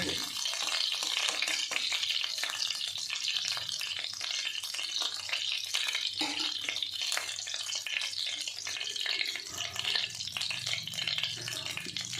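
Paneer frying in a little oil in a kadai: loud, continuous sizzle, close up, with constant crackle and occasional stirring throughout.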